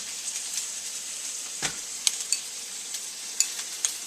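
Instant ramen stir fry with pork, shrimp and vegetables sizzles steadily in a hot pan, a continuous close hiss punctuated by sharp utensil scrapes and taps, with no voices.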